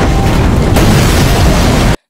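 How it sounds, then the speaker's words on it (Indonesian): A loud explosion in a drama scene, a dense broadband blast that fills the clip with a deep rumbling roar, shifts partway through, then holds steady until it cuts off abruptly near the end. No voices. "tiba-tiba sebuah ledakan"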